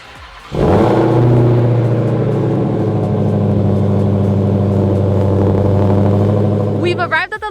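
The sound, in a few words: Dodge Hellcat Redeye engine cold start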